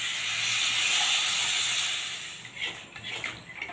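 Warm water hits a hot pan of frying soybean and potato curry, giving a loud, steady sizzling hiss that holds for about two seconds and then fades into softer, sputtering crackles.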